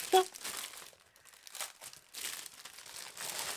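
Plastic packaging is unwrapped up close, giving bursts of crinkling and tearing with quieter gaps between, while a person talks over parts of it.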